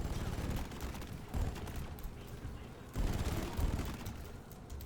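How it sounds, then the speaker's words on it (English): Drak plasma carbine fire in Deep Rock Galactic streams out in rapid bursts as rounds ricochet back and forth, with dense crackling impacts and two heavier surges under a talking voice. "As those rounds start to build up and continue ricocheting back and forth."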